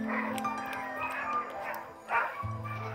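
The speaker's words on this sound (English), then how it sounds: "The sound of hungry dogs wakes me to a stunning day in Karasjok." Hungry sled dogs in Karasjok, Norway, barking, yipping and whimpering together in the morning, a restless chorus of overlapping calls at moderate distance with a low steady hum underneath.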